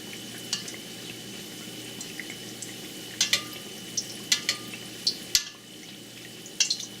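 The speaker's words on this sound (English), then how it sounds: "take a little bit of hot oil, kind of go over the top" Shrimp burger patty frying in hot oil with oil spooned over the top, a soft steady sizzle under a scatter of sharp crackles and pops, close and fairly quiet, no voices.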